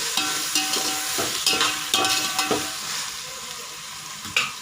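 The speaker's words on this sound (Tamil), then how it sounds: "தக்காளி வந்து நல்லா குழைய வதங்கணும்" Tomatoes sauté in ginger garlic paste in a pan, a loud close sizzle broken by repeated scraping stirs at an uneven rhythm, with no talking.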